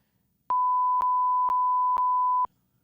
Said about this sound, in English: Beep, beep, beep. Beep, beep, beep, beep.